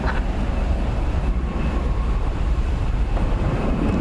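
An Airbus A321 at DFW Airport at night: a steady, loud jet roar with deep rumble that holds evenly throughout, with no voices.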